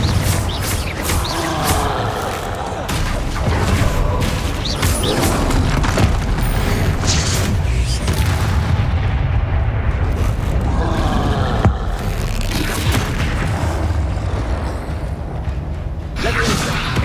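Confringo spell explosions in the video game Hogwarts Legacy come as loud, continuous booming blasts and crashing rumbles that fill the whole stretch, mixed with swooshes and game noise.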